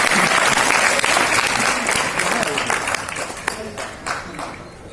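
Dense audience applause fills a marketing seminar hall, loud at first and then thinning and fading toward scattered claps near the end.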